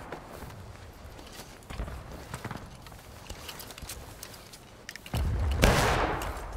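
In the Civil War video game War of Rights, scattered hoof clops and shuffling give way to a dense musket volley that bursts out together near the end and rolls on loudly.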